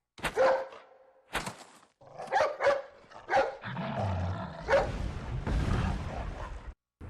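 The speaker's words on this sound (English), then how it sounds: "Hey, it's that dog." A dog barks in a run of sharp, close barks with short gaps, followed by a deeper rough, growling bark that continues for several seconds before cutting off.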